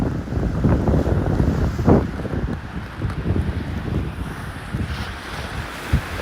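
Water of a stream at Rouge Hill on a snowy Christmas Day rushes and splashes in a steady, fairly loud broadband wash, with no voices over it.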